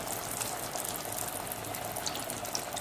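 Banana flower vadai dropped into hot oil to deep-fry, giving a dense, steady, bubbling hiss that stays close and even throughout, with no voices.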